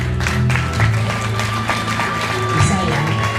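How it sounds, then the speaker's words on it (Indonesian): An audience at an Isra Mi'raj gathering gives steady, continuous applause, a dense patter of many hands over a low background hum and murmur. "Kita applause dulu, tepuk tangan dulu."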